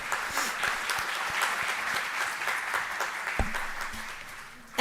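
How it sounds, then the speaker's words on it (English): Audience applause at a university college event on India's G20 presidency, a steady wash of many hands clapping with a few louder individual claps, moderately loud and continuous, ending with a sudden thump. "A huge round of applause, ladies and gentlemen"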